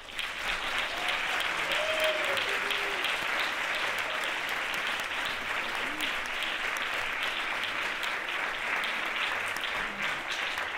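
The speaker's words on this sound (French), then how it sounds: "je vais vous demander des applaudissements" An audience applauds at a live talk show event, a dense continuous wash of clapping lasting throughout, steady and fairly loud, with a few faint voices and whoops mixed in.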